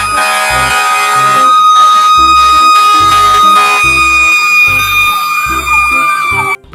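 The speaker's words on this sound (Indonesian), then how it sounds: "di sini juga ada mobil pemadam kebakaran teman-teman, buat memadamkan api." A toy fire truck gives off a loud electronic siren, close to the listener. A bright, wavering wail runs over a rapid pulsing beep that repeats steadily until it cuts off at the end.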